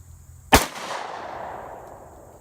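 A single sharp 10mm pistol shot from an Armscor Rock Island 1911, loud and close, followed by a long reverberant decay fading over about two seconds.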